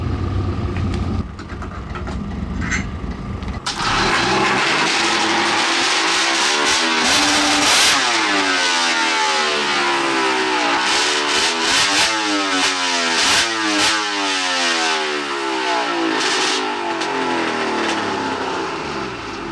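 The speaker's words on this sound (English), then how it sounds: "That's a loud snowmobile." A straight-piped snowmobile with no mufflers on an asphalt drag strip, revving hard and loud, the engine pitch sweeping up and down repeatedly in a raw, buzzing howl close by.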